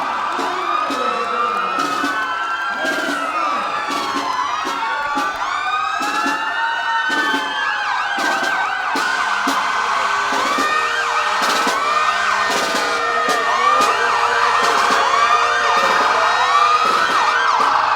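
Several wailing fire engine sirens sweep up and down at once during a July 4th parade in Natick, loud and continuous, with blasts of an air horn and a crowd murmuring beneath.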